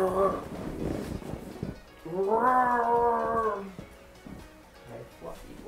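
A cat gives a long drawn-out meow in the middle of the clip, near and fairly loud, with shorter murmuring sounds before and after and a person's voice faintly audible around it.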